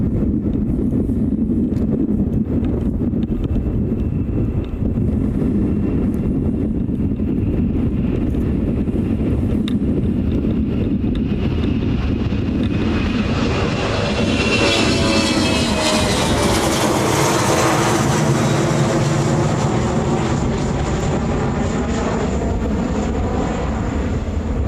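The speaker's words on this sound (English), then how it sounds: "Next departure is a 717." A Boeing 717 airliner departs from Kahului Airport on Maui, its jet roar building loud and broad as it passes, with wind buffeting the microphone throughout.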